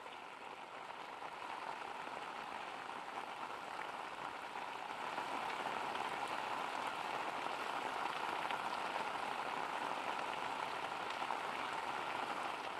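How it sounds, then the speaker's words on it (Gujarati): Steady rain falls over the city of Ahmedabad, a dense, even hiss of drops on surfaces holding at constant loudness throughout, with no voices. "અમદાવાદ શહેરમાં વહેલી સવારથી જ વાદળછાયા વાતાવરણ બાદ વરસાદની શરૂઆત થઈ છે."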